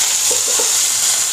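Curry leaves crackle in hot oil during tempering for a kulambu, a bright continuous sizzle close to the pan with a few brief pops near the start.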